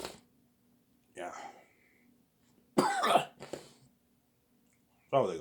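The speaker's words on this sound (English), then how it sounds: "Oh, they got some coughing." Several separate coughs, close and fairly loud, spaced by silent gaps, with one coming as a rough double burst.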